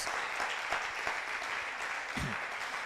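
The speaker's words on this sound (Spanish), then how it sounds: "¿Cuánto le dan ese aplauso al Señor?" A church congregation applauds during a Spanish-language sermon, a moderate, somewhat distant patter of clapping with a few louder individual claps.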